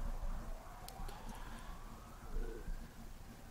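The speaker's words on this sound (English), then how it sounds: "Sorry, Russell, I just had to wait for that ambulance to go" An ambulance siren passes in the distance, a faint rising and falling wail drifting under low background rumble, with no speech over it.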